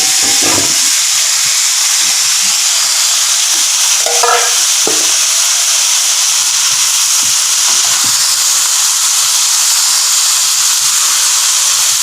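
Soybean sprouts stir-fry in a hot pan, with a steady loud sizzle and hiss throughout and a few brief scraping stirs, close up and without talk.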